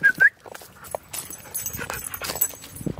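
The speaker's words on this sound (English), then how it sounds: "Hey, dogs." Several dogs whimpering and yipping in high-pitched bursts near a person on a breakfast foraging outing, with scuffling movement between cries and no talk.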